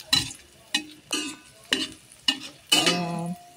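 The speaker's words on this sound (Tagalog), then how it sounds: "Ayan, pinito-prito ko muna yung bawang." Garlic frying in butter in a pan, with five sharp sizzling bursts as it is stirred, each fading quickly, then a longer, steadier sizzle at the end, close and fairly loud.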